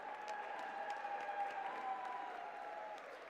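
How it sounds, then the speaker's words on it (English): An audience at a robotics district competition applauds the competing teams, faint and distant clapping and some cheering under a steady tonal hum in a large venue. "Give them a round of applause."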